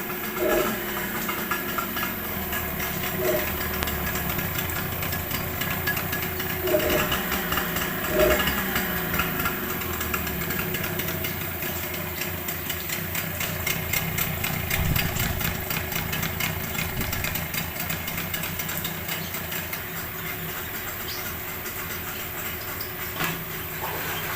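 A Yamaha 15 Enduro outboard boat engine idles continuously at close range during flushing, a steady low rumble with faint rattling that never changes pace.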